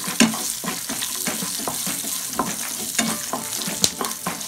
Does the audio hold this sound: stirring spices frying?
yes